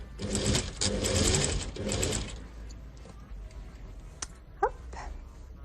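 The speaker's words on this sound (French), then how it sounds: "je retourne tout pour pouvoir coudre le coussin tout autour" A sewing machine stitching two fabrics together around the edges of a cushion, with two to three bursts of fast mechanical whirring followed by quieter handling clicks and a sharp tap.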